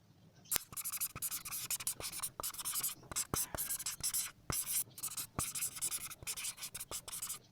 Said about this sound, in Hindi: तो यहाँ पर फिर हम ये बात लिख लेते हैं।